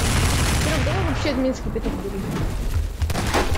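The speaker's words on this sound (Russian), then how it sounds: "Ну, ты будешь пистол так бесконечно стрелять, что ли?" A pistol in Garry's Mod fires in a rapid, continuous volley of loud shots. Voices talk over the steady gunfire throughout.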